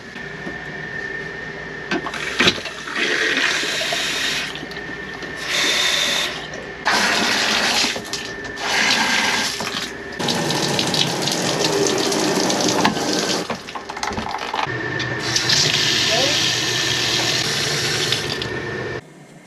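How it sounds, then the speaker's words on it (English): A KZ camper's toilet fills its bowl with water from a pulled lever and then flushes, giving a loud, steady rush of running water close by, broken by several short pauses. "To add water, you just pull this little lever and it fills up, and to flush it you pull it all the way back and it opens up."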